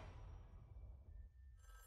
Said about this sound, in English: Oh, no, that's a phone call.